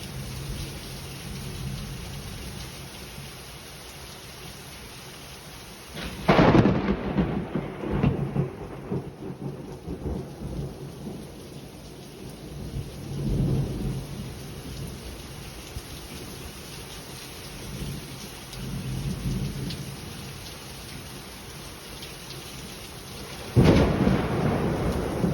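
Heavy rain pours steadily outdoors during a days-long thunderstorm, with loud thunder cracks and rumbles breaking through near the start and again at the end.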